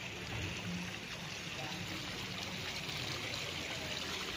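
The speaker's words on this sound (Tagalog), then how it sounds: "Galing yan sa bukal ang tubig." Steady flowing spring water trickles and babbles continuously at close range, a constant watery wash with no talking.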